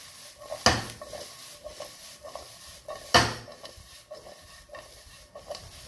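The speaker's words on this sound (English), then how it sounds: "Now again, just mix it like this." Fried rice with eggs is stirred in a pan: two sharp, close knocks of a utensil against the pan stand out over soft, intermittent scraping and lighter taps. No voices.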